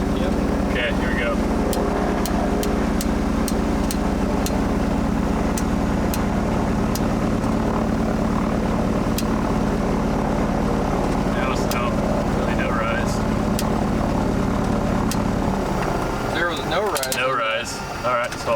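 Aircraft propeller engine on a ground test run, a steady loud drone with a strong low hum and engine harmonics that holds for most of the clip, then winds down near the end as a voice speaks over it.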